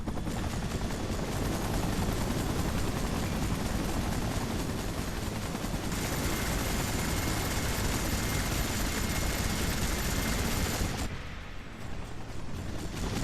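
A helicopter flies in the Spider-Man 3 video game, a steady loud rotor and engine roar filling the scene with a few sharp impacts mixed in, and no voices heard.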